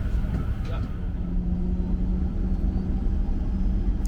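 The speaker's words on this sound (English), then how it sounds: "Our aircraft is an 11-year-old Boeing 737-800" Inside the cabin of an 11-year-old WestJet Boeing 737-800 in flight, a steady low rumble and airflow hum fill the background while a person talks over it.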